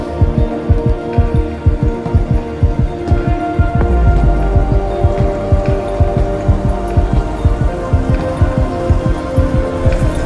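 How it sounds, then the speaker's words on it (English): A deep rhythmic heartbeat thump pulses steadily through the bridge of a song, layered over a low sustained hum and synth backing, loud and continuous with no talking. "The heartbeat, very cool."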